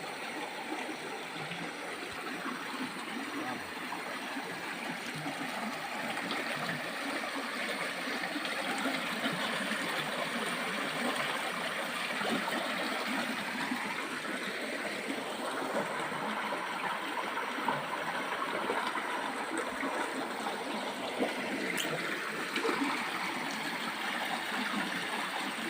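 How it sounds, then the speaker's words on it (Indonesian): Water flowing out of the ground in a forest in Aceh Tamiang gives a steady, broadband rushing wash, moderately distant and unbroken throughout with no voices. "Air keluar dari bawah tanah."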